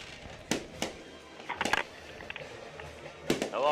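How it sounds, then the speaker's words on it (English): Fireworks bursting at a high school varsity football game, several sharp cracks and pops scattered across the moment over steady crowd and stadium ambience, fairly distant, with one crackling burst near the end. "they got fireworks over here for Mr. Wilson tonight."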